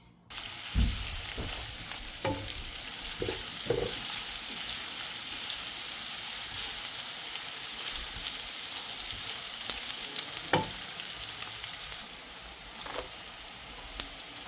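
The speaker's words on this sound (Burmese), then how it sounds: "ဒီမှာစီအိုးလေးတည်ထားတယ် ကဲစားကြော်တော့မယ်" Shrimp and bitter gourd fry steadily in a hot pan, a continuous close sizzle with a few louder pops and spatters standing out, no talking over it.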